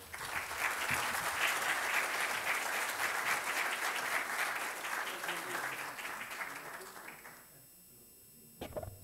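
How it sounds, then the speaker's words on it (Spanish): Seminar audience applauding its speakers at a Civil Code event, a dense sustained wash of clapping that fades out near the end, followed by a couple of brief clicks. "Brindamos un fuerte aplauso al doctor Mario Castillo, Leiser Luigi León y la doctora Elvira Martínez"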